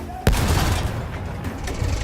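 Video game gunfire aimed at a tank: one sharp, booming shot followed by a rumbling, dense stretch of battle noise, loud and close.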